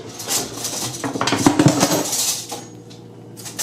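Spoon and fork picked up and clinking together in a home kitchen during cucumber salad prep, a run of bright metallic clinks and clatter, close and fairly loud, fading out toward the end.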